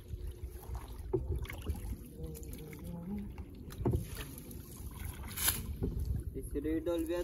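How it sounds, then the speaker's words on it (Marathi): A small fishing boat out on the sea at night, its engine chugging low and steady under wind buffeting the microphone and faint water wash, with a few sharper knocks scattered throughout. "आम्ही छोट्या बोटीमध्ये आलो डोली लावायला"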